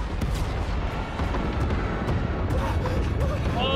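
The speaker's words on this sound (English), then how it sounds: "we got some serious explosions going on" Dense, continuous rumbling blasts and booms from droids being destroyed in a video game fill the whole stretch, loud and chaotic, with a faint voice briefly underneath.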